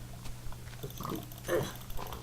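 A Minecraft pig gives a few short grunting oinks at moderate level, with soft game ambience underneath and no voices.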